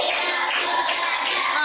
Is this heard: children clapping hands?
yes